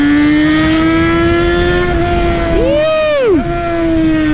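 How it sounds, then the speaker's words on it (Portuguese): A motorcycle engine idles loudly nearby, then revs sharply up and falls back to idle in one quick burst, the pitch rising and dropping smoothly. "Essa moto berra bonito, na verdade"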